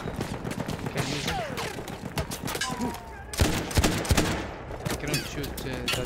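Machine gun fire in Battlefield 1, a World War I shooter, rattles in dense overlapping bursts under constant talking across the whole stretch.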